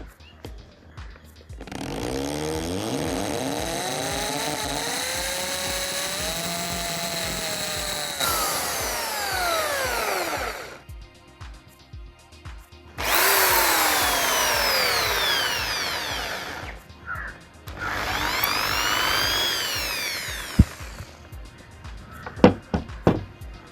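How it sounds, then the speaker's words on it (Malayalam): An electric drill whines in several long bursts while boring a hole, its pitch rising as it spins up and bites, with pauses and a few knocks between. "ഡ്രിൽ ചെയ്യുന്ന സമയത്ത് വളരെ ശ്രദ്ധിച്ച് ചെയ്യണം, അപകടം പിടിച്ച പണിയാണ്"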